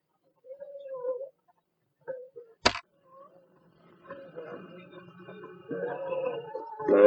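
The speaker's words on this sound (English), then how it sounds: "Trying to get the cat to meow." A cat gives a few short meows near the start, followed by a sharp click and then growing mixed background noise and faint voices toward the end.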